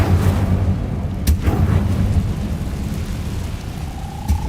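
An Incendio fire spell cast in the Hogwarts Legacy video game: loud, booming bursts with a crackling roar, one sharp blast partway through and a rising whoosh near the end.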